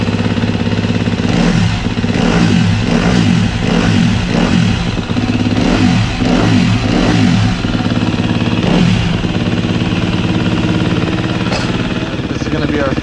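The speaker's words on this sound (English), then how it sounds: "New exhaust, sounds good." A custom motorcycle with a new exhaust revs loud and close, its throaty engine note rising and falling in repeated surges over a rough idle, steady and dense throughout.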